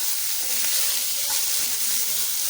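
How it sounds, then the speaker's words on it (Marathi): Chopped onion and green chili fry and are stirred in a hot pan while a winter vegetable dish is cooked. A dense, steady sizzle carries on throughout, with faint stirring scrapes under it. "आणि बाकीचा कांदा थोडा आधी टाकायचा मिक्स करून घेतो"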